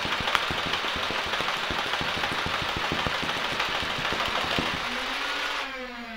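Nerf Rapidstrike fully automatic blaster emptying a 35-round drum: a rapid, steady stream of motor-driven firing clatter under a constant flywheel whir for about five seconds, then the firing stops and a short rising motor whine trails off.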